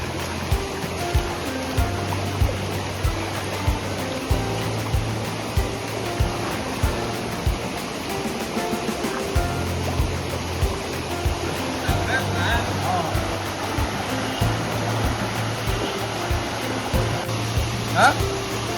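A river in the Kali Tiger Reserve jungle flows with a steady broadband rush of water at the crossing point, continuous and fairly loud, while people talk over it throughout.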